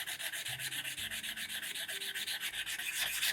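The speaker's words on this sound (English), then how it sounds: "Let me grab some sandpaper and I'll show you how I make it look good" Fine 320-grit sandpaper is rubbed by hand over an acoustic guitar nut in a steady, rhythmic back-and-forth scratching, close and even, with no talking.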